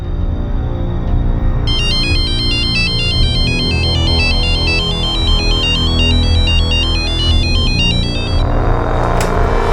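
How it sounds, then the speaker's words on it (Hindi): An electronic phone ringtone trills in a repeating warbling pattern for several seconds over a steady low background hum. "आपटे, इसके बाप को दुबई में फोन करो।"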